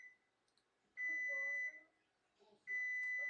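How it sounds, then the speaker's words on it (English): Ring doorbell notification chiming indoors, two bright electronic tones separated by a short pause, clear and moderately loud in a quiet room. "my ring is ringing"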